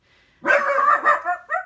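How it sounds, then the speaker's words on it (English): A dog lets out a short burst of loud, close barks, a few quick yaps in a row. "Oh, that's my dog Stanley."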